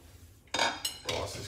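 Metal utensils scraping and clinking against dishes as food is served onto a plate, two bursts of close clatter after a quiet start.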